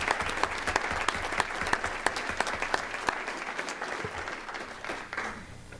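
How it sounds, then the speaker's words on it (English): School district board meeting audience giving a round of applause, a steady, fairly distant patter of many hands clapping with a few sharper claps, fading slightly near the close. "So if we could just give Caleb in absentia a round of applause for that significant."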